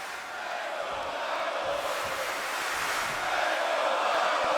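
Arena crowd in the WWE 2K26 video game cheering for Shawn Michaels, a broad, steady roar that swells slightly toward the end, heard at a distance without clear talk.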